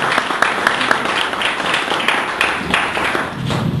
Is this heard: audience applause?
yes